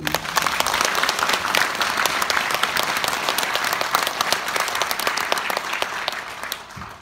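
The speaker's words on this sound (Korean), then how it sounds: "한 1년 동안 고생 많이 하셨다고 박수 좀 한번 보내주세요." Audience applause at an outdoor ceremony for the 9th Gyeyang district community welfare council festival, a dense, steady patter of many hands clapping that holds at an even level for the whole stretch without any talking.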